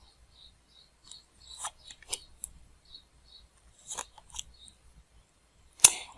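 Tarot cards shuffled and drawn by hand, a series of soft, dry papery rasps and riffles in short bursts with brief pauses, ending in one sharper snap-like slap near the close.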